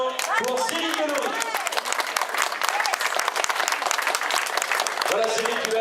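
A crowd applauds the second-place rider on the podium at a Grand Prix cycling race, steady clapping running throughout with a voice talking over the start and end.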